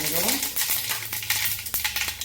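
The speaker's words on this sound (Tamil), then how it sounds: "இப்போது கொஞ்சோண்டு கடுகு," Mustard seeds are dropped into hot oil in a kadai for eggplant kara kuzhambu, crackling and sizzling loudly with sharp irregular pops over a steady frying hiss.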